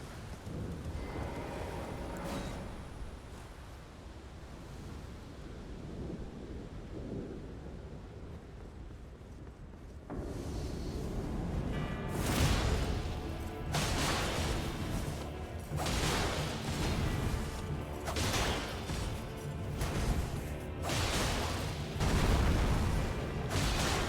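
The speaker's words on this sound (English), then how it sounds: "Very stormy." Thunderstorm at Stormhill in the Elden Ring video game: steady rain and wind, with loud rolling thunder cracks arriving repeatedly in the second half, alone with no talk.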